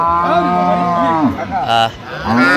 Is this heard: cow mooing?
yes